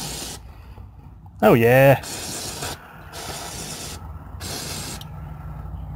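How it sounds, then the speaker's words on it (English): Brake cleaner sprayed onto a car's front axle during a Nissan Rogue front axle replacement: one loud, hissing burst of about half a second rises over quieter workshop noise, and a person speaks briefly. "And I'll take some brake clean to it also, just to get all that fluid off."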